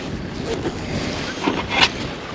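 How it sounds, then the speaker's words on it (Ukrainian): Wind gusts steadily across an open riverside space in November and buffets the microphone, with faint bumps and splashes near water. Nobody speaks. "Вітер так дуєш."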